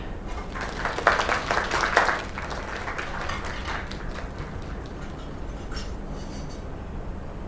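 A burst of clapping applause in a video game for about two seconds, then a softer patter of scattered claps fading into a steady background hiss.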